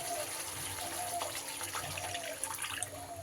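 Water poured into a pan of Bengali bele (sand goby) fish curry with mustard paste and spices, a steady, fairly quiet gushing stream that runs for a few seconds with a faint clink near the end.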